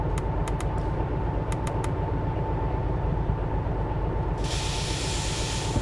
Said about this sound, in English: time to get this train backing up.